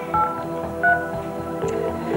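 A short series of electronic telephone dialing tones, a few separate beeps spaced over a couple of seconds against a faint steady hum.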